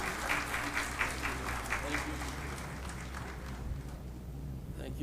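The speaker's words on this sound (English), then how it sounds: "Please join me in welcoming Justice Syed Mansoor Ali Shah with a round of applause" Audience applause greets a justice arriving to speak at a regional inclusive justice symposium, a fairly soft, steady patter of many hands that runs the full length and fades slightly toward the end.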